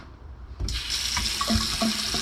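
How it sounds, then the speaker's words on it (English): Water starts gushing from a hotel suite wet bar faucet after a short quiet moment, then runs steadily and close, with a few small clinks. "hot and cold running water"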